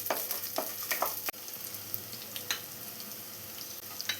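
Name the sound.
chopped shallots sautéing in coconut oil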